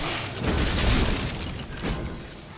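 Heavy, booming explosions rumble in the Dragon's Dogma video game, one long deep blast followed by a second thud, loud and close, with no talking.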